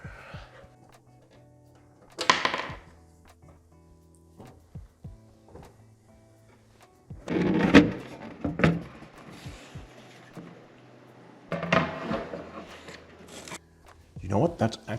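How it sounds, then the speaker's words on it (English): A NAS computer case has its drive compartment opened, with scattered plastic clicks, a rattling slide and handling clunks in a few brief bursts between quiet gaps. "let's open up the drive compartment"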